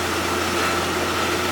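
A JCB Fastrac tractor engine runs at a steady idle-like hum, a continuous low drone with no voices heard.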